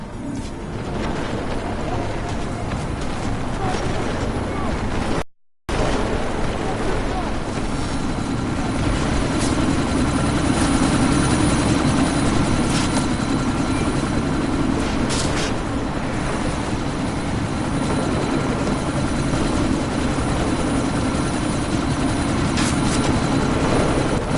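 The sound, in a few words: helicopter taking off in video game Deus Ex Mankind Divided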